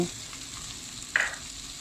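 Fried shrimp with chilies being stir-fried in a hot pan, a steady close sizzle with a brief sharp clatter of the utensil near the end.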